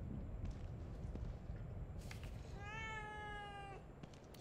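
A cat gives a single drawn-out meow in the video game The Evil Within 2, clear and close over a low rumbling background.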